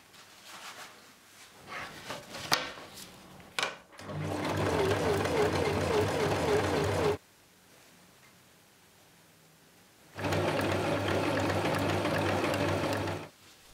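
A sewing machine stitching a dress bodice from thrifted fabric runs in two steady, loud whirring bursts of a few seconds each, separated by a pause, after some light handling clatter.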